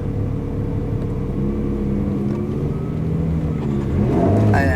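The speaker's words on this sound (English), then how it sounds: "when you reach the end of the cones, you can give full gas." A BMW M3 E30 accelerates at full throttle, its engine note building steadily and rising sharply in pitch toward the end, heard continuously and close with no talking.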